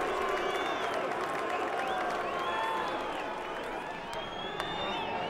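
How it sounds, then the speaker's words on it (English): A boxing arena crowd during the Briggs–Liakhovich fight, a dense continuous roar of booing and jeering voices with scattered whistles, loud and sustained throughout. "More displeasure from the crowd."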